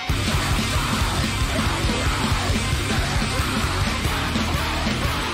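Chaotic metalcore from the 90s hardcore scene, dense and loud distorted guitars and pounding drums with screamed vocals, a continuous wall of noise.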